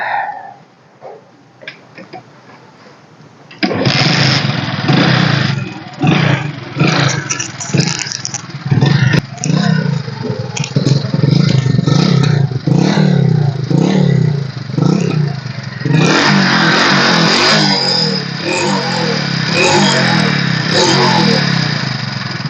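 Second-hand motorcycle engine cranked and started, then revved repeatedly with rising and falling throttle bursts and mechanical clatter, loud and close, a brief lull midway before further revving.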